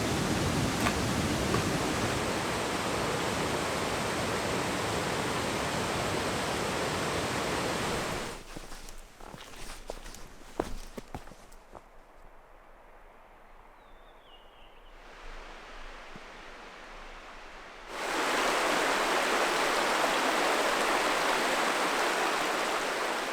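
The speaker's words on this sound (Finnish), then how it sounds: "Aika sateista on." Steady outdoor rain in the Lapland wilderness, a dense even hiss that fills the first stretch, drops away to near quiet with faint rustles in the middle, then returns at full strength.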